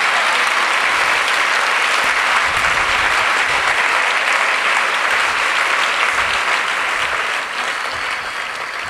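A large Christian congregation applauds loudly at a worship gathering, a thick, continuous roar of many hands clapping together for several seconds that tapers off near the end.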